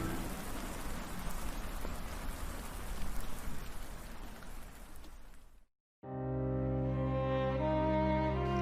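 Steady heavy rain falling and pattering on surfaces, a dense continuous hiss that cuts out briefly, then resumes with a smoother, more tonal wash.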